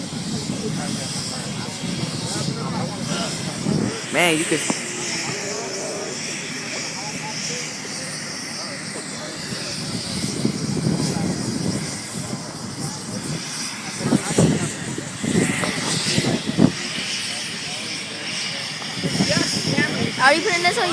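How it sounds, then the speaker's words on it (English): A paramedic helicopter lands nearby, its rotor and engine making a steady loud roar and hiss that rises and falls while people talk close by. "That's the paramedic helicopter."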